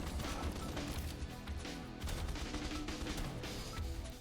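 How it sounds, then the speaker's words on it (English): Rapid, overlapping blasts and gunfire in Swarm Grinder, an arcade bullet-heaven shooter on an alien-infested world, pound continuously and loudly with no voice over them. "And hopefully they'll trigger even more explosions."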